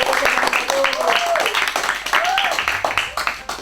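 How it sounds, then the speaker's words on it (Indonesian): An audience claps at a studio music taping with a band, the applause mixed under lively voices and growing into distinct quick claps toward the end. "Kasih tepuk tangannya."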